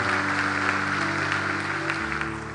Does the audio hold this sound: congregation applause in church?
yes